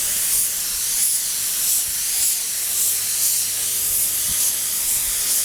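A spray gun laying pearl white paint on Yamaha FZ600 motorcycle parts hisses loudly and continuously up close, pulsing gently in rhythmic sweeps with a faint low hum underneath and no talking.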